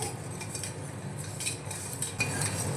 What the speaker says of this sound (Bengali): কর্নফ্লাওয়ারটা ভালো করে জলের মধ্যে গুলে নেব যাতে কোনো গটলা ভাব না থাকে